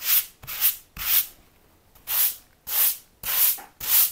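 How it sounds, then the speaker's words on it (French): Dried filler being sanded by hand: seven rasping back-and-forth strokes, close and fairly loud, in an uneven rhythm with short quiet gaps between them. "On n'a pas besoin de beaucoup poncer de toute façon."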